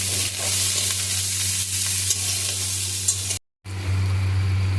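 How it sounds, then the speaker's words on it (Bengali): Chopped onion and green chilli stirred in a pan over fried garlic for egg chow mein, with a steady close sizzle and scraping stir running throughout, briefly cut off near the end, over a low constant hum. "এটাকে ভালো করে নাড়াচাড়া করে নিতে হবে"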